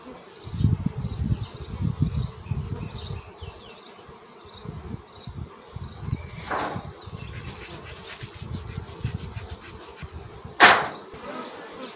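Agitated honey bees buzz continuously and close, a dense swarm-like hum during varroa protection work at the hive, with a sharp knock near the end.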